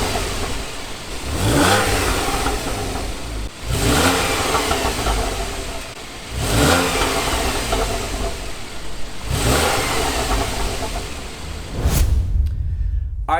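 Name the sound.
2015 Porsche 911 991.1 stock exhaust revving, 1,000-4,000 RPM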